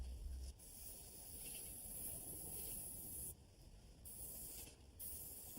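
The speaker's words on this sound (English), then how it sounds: "let's see your technique with the airless sprayer" An airless paint sprayer coating a fence outdoors, a continuous close hiss in bursts as the trigger is released twice for brief gaps between passes, with no talk.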